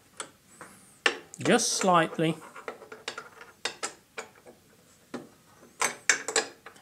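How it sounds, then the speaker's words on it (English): Ratcheting and metallic clicks from a wrench loosening bolts on a miter saw fence pivot, sharp intermittent ticks heard close, with someone briefly talking early on. "I would undo the rest 3 bolts"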